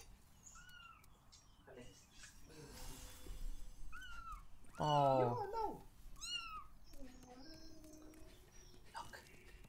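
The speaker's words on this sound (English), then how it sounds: "oh, kitten!" A kitten meows repeatedly in short high calls around a room, with one louder drawn-out cry near the middle; people talk and react over it.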